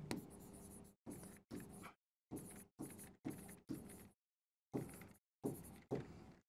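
Chalk or marker scratching out notes on a classroom board during a biology lesson, a series of short separate strokes with brief silences between them, close and clear.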